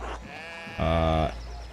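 A sheep in the medieval village of the video game Pentiment gives a single clear, nasal bleat lasting about half a second, close and distinct against a quiet ambient background.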